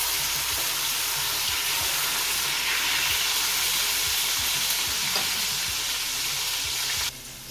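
Ginger and garlic paste frying in a pan, giving a steady, close sizzle with faint stirring scrapes and light crackle throughout, continuous and fairly loud, with no talking.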